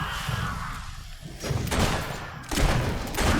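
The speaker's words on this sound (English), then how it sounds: "Keep up that shooting and we'll be rid of them in no time." Gunfire in the Fable 3 video game: a burst of loud, close shots and thudding impacts, with heavy bangs arriving in clusters over a few seconds.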